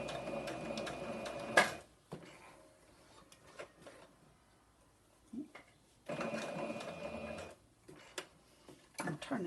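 Two bursts of a sewing machine's fast mechanical chatter stitch cloth mask fabric, each running a couple of seconds with quiet pauses and soft handling noises between, close and clear.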